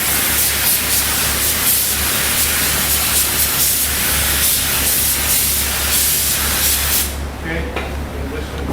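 A cup spray gun hisses steadily, loud and close, misting a thin coat of toner across door faces, a broad continuous spray that cuts off near the end.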